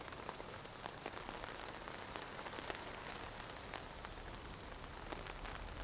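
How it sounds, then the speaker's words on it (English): Very light rain sprinkles at a campsite while the sun is out, scattered drops ticking sharply on surfaces over a soft steady hiss, faint and close with no talk. "It is super, super light and the sun is out, but it's raining."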